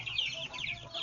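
Free-range village chickens at a kampung chicken farm in Java give a brief burst of close, moderately loud clucking over faint farmyard background.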